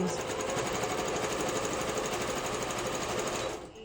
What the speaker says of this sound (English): Okay, I got my machine threaded and I'm sewing this.